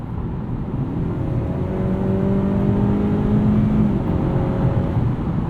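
A 2021 Honda Accord Sport with its 2.0-liter turbo engine drives steadily at night, a continuous engine drone and road roar with rising harmonic tones as it gains speed, loud and close from inside the cabin.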